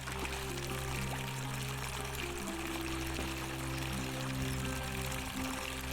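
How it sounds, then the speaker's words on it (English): A fountain producing fresh water in The Forgotten City runs steadily at moderate level, under a constant low ambient hum, with no break and no talking. "Something to do with those sparkly fountain producing fresh water."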